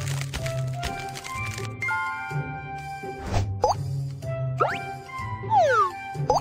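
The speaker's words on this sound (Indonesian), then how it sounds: "Kocok kompres es untuk mendinginkannya" Cartoonish plops, squishes and tinkly sliding tones from a BabyBus children's game as a disposable medical ice pack is shaken, layered over bouncy background music.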